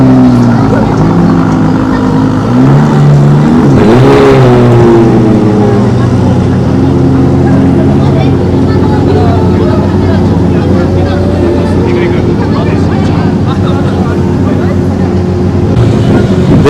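A sports car pulls away at a Tokyo car show, its engine note swelling then settling into a steady rumble beneath heavy wind noise while a person talks.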